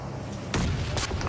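Grenade explosions in PUBG, two dull booms about half a second apart under a dense, noisy game soundscape.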